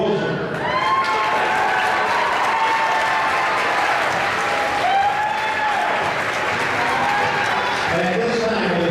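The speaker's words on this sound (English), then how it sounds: "round of applause for Coach Holt and the White Bear Lake Bears basketball team" Sustained applause and crowd noise for a runner-up girls' high school basketball team, the White Bear Lake Bears, at an American awards ceremony, steady and dense throughout with an announcer's amplified voice ringing over the clapping.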